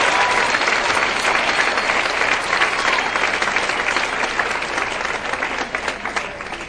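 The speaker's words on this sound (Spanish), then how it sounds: "aplaudiría fuerte al Rey en esta noche que se lo merece." Church congregation at an evening worship service applauding loudly and steadily, dense sustained clapping that tapers slightly toward the end, with no talk over it.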